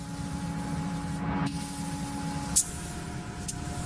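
A spray gun lays clear coat paint onto a Pontiac GTO under restoration, a steady close hiss broken by a couple of short sharp bursts, with no voices.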